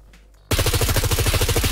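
Rapid, loud burst of gunfire in the survival game SCUM, starting abruptly after a quiet moment and continuing as a steady, close stream of shots striking a building.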